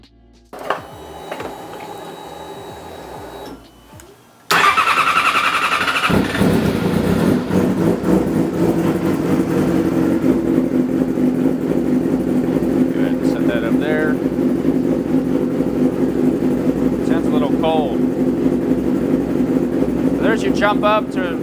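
A 2008 Yamaha R6 motorcycle engine turns over, fires and settles into a steady, loud idle that continues alone, with a brief quieter start before it catches.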